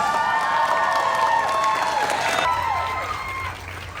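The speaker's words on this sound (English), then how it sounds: "let's give a warm round of applause for all of our lovely contestants" An audience applauds contestants at a 1950s-style pin-up girls contest, dense clapping and cheering filling the room loudly for a few seconds before tapering off.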